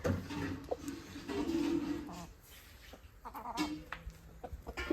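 Chickens cluck and a rooster crows nearby, several short calls scattered over quiet farmyard background.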